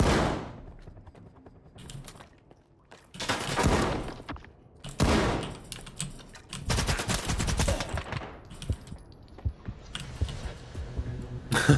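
Shotgun blasts from Stalker 2 ring out in several loud, separate bursts spaced a second or two apart, each with a short echoing tail, with quieter mechanical clicks between shots.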